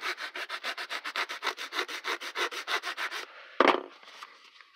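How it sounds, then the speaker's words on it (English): Sandpaper rubs back and forth on a wooden boffer sword in about twenty even, rhythmic strokes, close up, followed by a single knock. "I'm going to sand this up"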